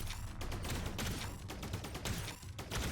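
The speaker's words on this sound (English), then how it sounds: "We have more bullets, but that means we're going to fire less, less AoEs." Rapid, dense gunfire in the roguelike shooter game Rising Heat, a busy stream of shots with mechanical clatter, fairly quiet in level and continuous throughout.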